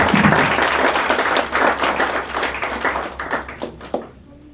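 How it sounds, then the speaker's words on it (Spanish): An audience at a book presentation gives a warm round of applause for speaker Joaquín Gorrola Aguirre, a full burst of clapping that gradually tapers off into scattered claps. "Démosle por favor un fuerte aplauso a don Joaquín Gorrola Aguirre"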